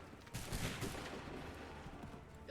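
A volley of musket fire in Assassin's Creed III, a single crackling burst of many shots together, somewhat distant and moderately loud, fading into a rumbling decay.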